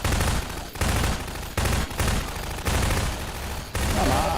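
Automatic turrets in Half-Life 2 Episode 2 fire loud, sustained bursts of rapid gunfire in several long volleys separated by very brief gaps, close and dominant with no talk.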